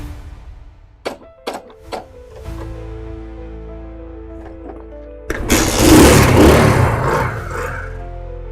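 A freshly repaired motorbike is worked on with a few sharp mechanical clicks and knocks, then a low hum, before the engine catches and roars into a loud, close, rough running note.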